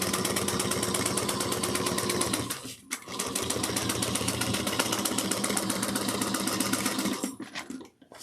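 A sewing machine top-stitches the lining of a bucket bag an eighth of an inch from the edge, running in a steady close whir with two brief pauses.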